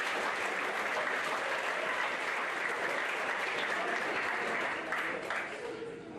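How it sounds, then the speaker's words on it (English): Steady applause from a banquet audience at a high school spring sports banquet, honoring booster club officers, loud and continuous before tapering off at the end. "So nice round of applause for them."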